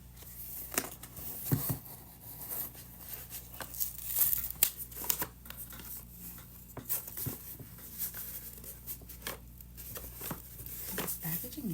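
Tight plastic product packaging is pulled and torn open up close, with steady crinkling, scratchy tearing and sharp crackles over a low background hum.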